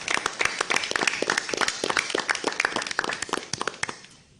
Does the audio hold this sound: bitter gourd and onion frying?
no